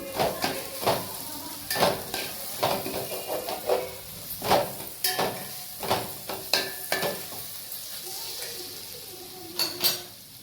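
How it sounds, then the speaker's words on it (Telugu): Potatoes frying in a pan for potato fried rice, a continuous hiss broken by frequent sharp metallic clanks and scrapes of a spatula, close and fairly loud, with no talking. "ఈ పొటాటో చెప్పాను కదా మీకు ఫ్రై చేస్తున్నాను"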